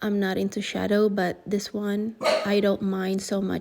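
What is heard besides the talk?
dog barking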